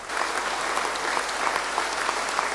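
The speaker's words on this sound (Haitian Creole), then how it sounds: "À la fin cérémonie, ti en a un grand applaudissement" Clapping from the audience at the end of a ceremony, a tribute held at a church, comes as a dense, steady round of applause that lasts throughout, with faint crowd murmur beneath.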